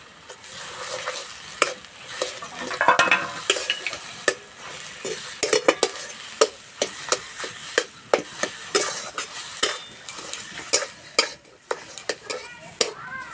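A spatula stirs mashed potato through fried whole spices in a pan, with repeated sharp scrapes and taps against the metal over a constant sizzle. The strokes are close and fall in an irregular rhythm.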